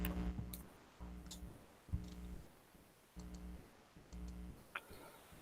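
Faint clicks from a computer keyboard that is failing to type, arriving in small irregular bursts over a low, repeating background hum with no talking.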